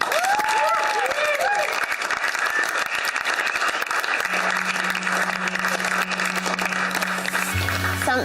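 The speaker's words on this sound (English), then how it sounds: "One last round of applause for Kat and Jeremy and their comedic routine" A studio audience gives sustained applause after a comedic circus act, dense clapping from a crowd heard loud and continuous, with a few voices and whoops mixed in.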